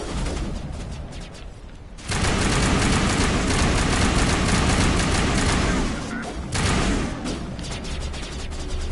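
Gunfire during a firefight in the video game Mass Effect, with sniper shots among dense, loud continuous shooting and blasts that swell after a quieter opening and stay busy throughout.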